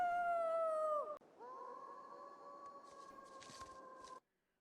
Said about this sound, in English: this thing across the horizon is howling